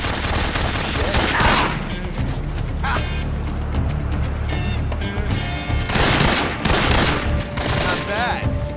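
Heavy gunfire in Metal Gear Solid 3: Snake Eater, a loud, continuous barrage with sharper bursts standing out, dense and steady throughout.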